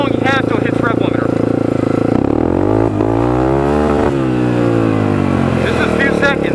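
A motorcycle engine is revved hard in first gear, its pitch climbing steadily and loudly up to the rev limiter, bouncing off it, dropping briefly, then rising again, close and continuous throughout.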